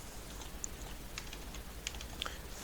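Faint, quick keystrokes tap on a computer keyboard in a quiet room, a loose irregular run of light clicks with a few sharper taps.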